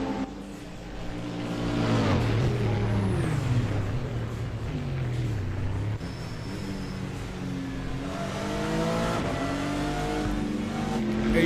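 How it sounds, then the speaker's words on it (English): Engines of GT4 cars and other race cars, including an Acura, roar around the track in a multiclass league race in a racing video game. A continuous loud engine drone with revving and shifting pitch runs throughout, with no talking. "drivers are already approaching the GT4s, as I think Paul gets distracted from Chris"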